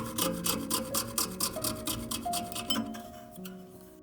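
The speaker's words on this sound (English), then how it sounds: "With this saw blade, you'll be able to cut out the rough shape of the item you are going to carve from the original block." A jeweler's saw blade rasps through a block of carving wax in fast, even strokes close to the mic, the rhythm slowing and fading toward the end.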